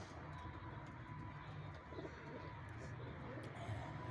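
Pigeons coo softly in a bird loft, low repeated throaty calls blending into a faint, steady background with a few distant chirps.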